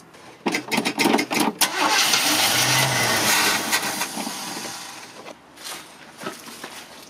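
A Chevrolet Caprice 5.7 V8 with an automatic gearbox cranks with several quick starter bursts, then catches into a loud, steady roar that slowly settles, followed by a few faint knocks and rattles.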